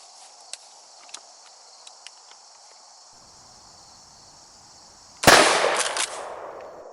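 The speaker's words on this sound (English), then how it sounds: "Let's take a shot to see what type of pattern we got" A KelTec KSG 12-gauge shotgun fired outdoors at a 12.5-yard pattern test delivers one loud, sharp blast that rings out and decays over about a second, after quiet ambience with crickets chirping and a few faint clicks.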